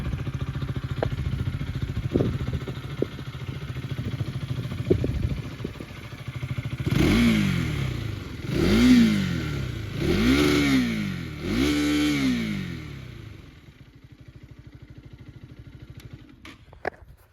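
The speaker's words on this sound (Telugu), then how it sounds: "సో గైస్, ఎగ్జాస్ట్ సౌండ్ ఇట్లా వస్తుంది." Exhaust of a KTM Duke 250 motorcycle idling steadily, then revved four times in quick succession, each sharp rising-and-falling blip close and loud, before dropping back to a lumpy idle and cutting off.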